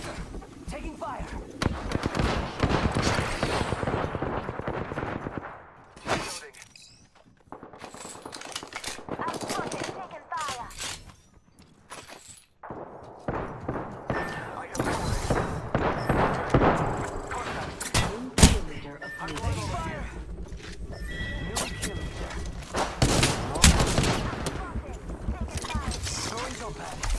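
Gunfire in the video game Apex Legends, a dense run of sharp shots and thuds mixed with game effects, continuing through most of the stretch under talk and busy in-game sound.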